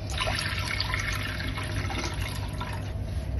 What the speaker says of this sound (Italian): versiamo l'acqua